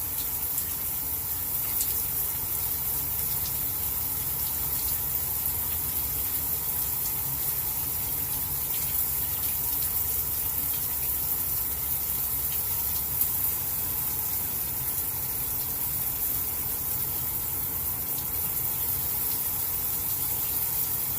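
Running tap water pours steadily into a sink while a razor is rinsed during a shave, a constant close rushing hiss with no breaks or talk.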